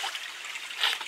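Clear spring water trickles softly out from under a hill in a jungle, a faint continuous dribble heard alone.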